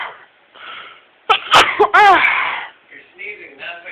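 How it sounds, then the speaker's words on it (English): A single loud, close human sneeze bursting out after a sharp intake of breath in a quiet indoor room, with soft voices talking before and after it. "I'm sneezing on camera"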